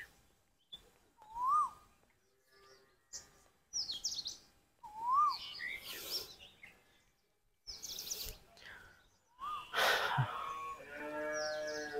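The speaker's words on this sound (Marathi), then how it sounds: "तर कोकिळा एक बघू शकता तुम्ही इकडे ओरडते" An Asian koel calls outdoors after rain, its rising whistled notes repeating a few times at moderate distance, interleaved with other bird chirps and some background activity.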